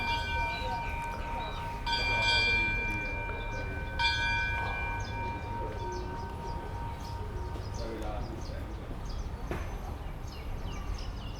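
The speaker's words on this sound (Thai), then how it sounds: "รอรถไฟเข้ามาในสถานีนครสวรรค์นะครับผม" A train rumbles in at Nakhon Sawan station in Thailand under a steady low drone, with a horn-like tone and scattered crowd chatter around it.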